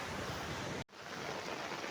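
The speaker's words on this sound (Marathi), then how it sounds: "मी तुम्हाला या कांचन धबधब्याचा रुद्ररूप दाखवतो" A loud, continuous roar of rushing water from Kanchan Falls swollen by heavy rain fills the air, broad and steady, with one sudden brief dropout before the roar resumes.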